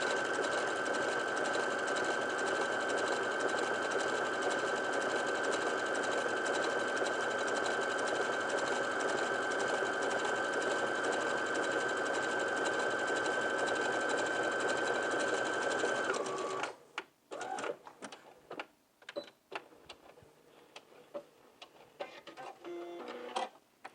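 Sewing machine stitching an overcast seam runs steadily at a fast, even hum for about sixteen seconds, then stops, followed by scattered clicks and fabric handling.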